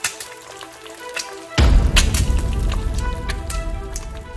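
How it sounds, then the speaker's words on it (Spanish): An egg frying in a pan at home starts sizzling abruptly partway through, a dense crackling hiss with scattered pops that continues steadily after a quieter start. "Friendo un huevo."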